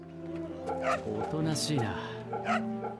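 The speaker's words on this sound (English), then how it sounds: "we'll round out this episode with the dog pat" Dog yips and whimpering barks from a pet dog being patted in the video game Fate/Samurai Remnant, several short cries over a few seconds, heard over game music with a person talking throughout.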